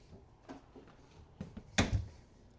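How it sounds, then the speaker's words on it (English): A pull-out drawer in the kitchen of a 2025 Brinkley Model G 4100 luxury toyhauler RV slides open, with a few soft bumps leading into one louder close-miked clack and rattle near the end, no talk. "And then a couple more pull-out drawers."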